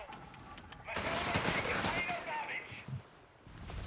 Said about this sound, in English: A little bit of howitzer fire coming in.